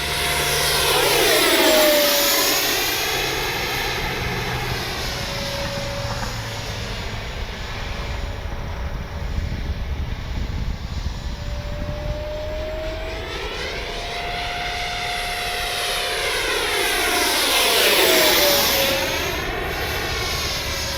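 Freewing 90mm J-10 RC jet, lit up and carrying ordnance, makes two loud overhead passes, its turbine whine rising as it approaches and sliding down in pitch as it pulls away, with a steady roar in between.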